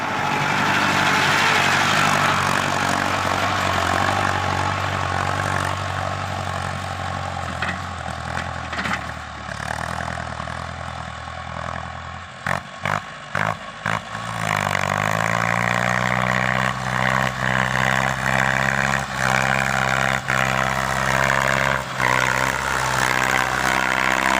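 A plowing tractor works a sticky, clay-heavy rice field, its engine roaring loud and close, dipping and sputtering midway before rising again into a steady, higher-pitched drone, with no voices.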